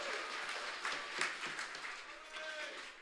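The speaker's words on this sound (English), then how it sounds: "Give them a round of applause if you like their food" Applause from a convention audience at a live SDCC 2022 panel, a dense rustle of clapping hands that holds steady for a few seconds, with voices mixed in.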